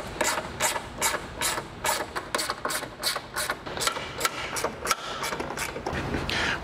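A hand ratchet backs bolts out of a third-generation 2022 Toyota Tundra headlight, sounding as a brisk run of sharp, close clicks in quick bursts with brief pauses between.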